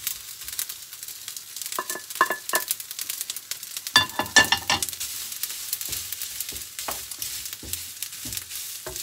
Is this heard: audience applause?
no